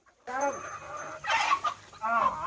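A rooster clucking and calling close by, a few harsh bursts with brief pauses between them.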